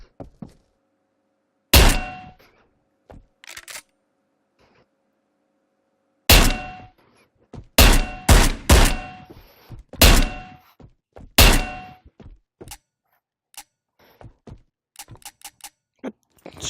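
Shotgun in the VR game Ghost of Tabor being loaded and racked at a shotgun station: sharp metallic clanks and thunks in irregular bursts, several close together, separated by quiet gaps with faint clicks.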